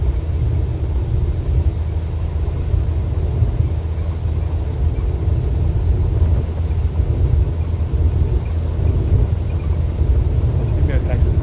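Airplane engine in Microsoft Flight Simulator 2024 rumbles loud and steady during the takeoff roll, a continuous low drone with a faint rise near the end.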